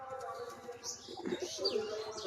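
Pigeons coo softly and repeatedly, with a few light chirps mixed in.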